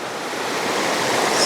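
Rushing, cascading water on Citico Creek roars steadily and loud as a dense, broadband wash that slowly swells, with no voices over it.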